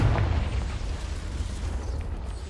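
The Confringo fire spell explodes in Hogwarts Legacy with a heavy, booming burst at the start that settles into a rumbling, crackling decay lasting a couple of seconds.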